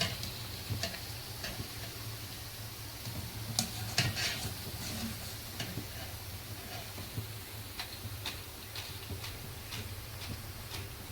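Kothimbir vadi, coriander fritters, fry in a pan with a soft, faint sizzle, broken by scattered light ticks and pops from the oil.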